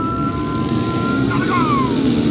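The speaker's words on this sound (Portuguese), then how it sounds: "Sobe o giro dos motores. Vai largar, vai largar, vai largar." Motocross bike engines at a regional race start hold a steady, loud buzzing drone with a rising whine near the end, heard from a distance with wind noise over the mix.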